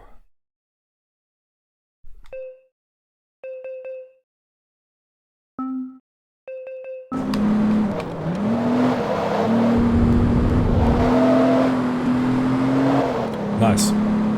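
In the racing video game Forza Motorsport 2, a few short electronic menu chimes sound, then a car engine comes in loud and near, holding a steady droning hum with shifting pitch through the rest of the clip.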